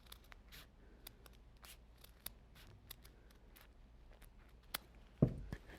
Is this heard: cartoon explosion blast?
no